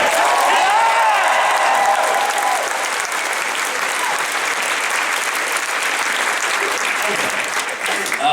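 A large audience at a convention Q&A panel claps loudly and continuously, with some cheering mixed in throughout.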